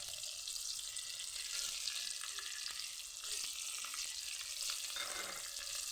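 Ginger paste fries in melted fat with a steady, close sizzle that holds through the whole stretch, with a few faint scrapes of stirring.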